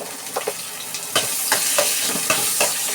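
Ginger sizzles in a hot pan as it is stirred, with a steady frying hiss broken by scrapes and light clatters of the utensil against the pan, close and fairly loud.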